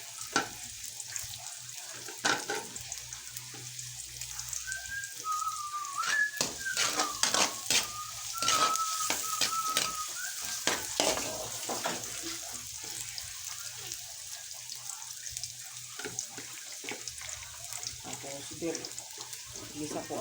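Garlic sautéing in a pan gives a steady sizzle, broken by frequent scraping and clattering stir strokes and some rattling of the pan, while a voice speaks now and then over the cooking.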